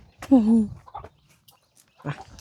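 Chickens clucking at close range: one loud, throaty cluck stands out, followed by a few fainter, scattered calls with quiet gaps between them.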